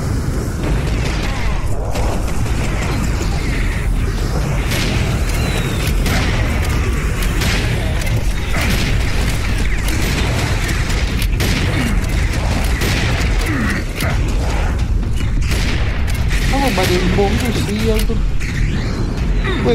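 Repeated bomb and C4 blasts in the Serious Sam 4 shooter game, heavy booms and rumbling bursts scattered across the stretch amid gunfire, with players talking over the action throughout.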